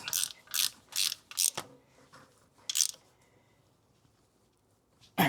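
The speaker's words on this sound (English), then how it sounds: "we can come in here and retighten that top alternator bolt" A ratchet retightening the top alternator bolt on an 80 Series Land Cruiser with a 1FZ engine, several quick bursts of close clicking pawl strokes separated by short pauses, alone in a quiet garage.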